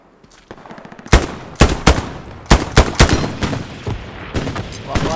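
Machine gun fire in the World War II shooter Enlisted on the Omaha map: several loud, close bursts and single cracks in an irregular rhythm, with no talk.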